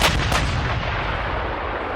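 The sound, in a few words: cannon shot from pirate ship, podcast sound effect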